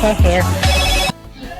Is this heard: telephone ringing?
yes